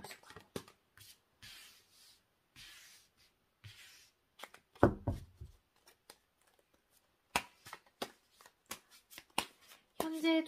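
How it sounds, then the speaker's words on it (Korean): Tarot-style cards being shuffled and drawn for a reading, crisp riffling bursts and short flicks in irregular clusters, close up, with a quiet gap mid-way and a heavier thud near the middle. "현재 두 분의 또 관계 모습은 어떤지 카드를 뽑아볼게요"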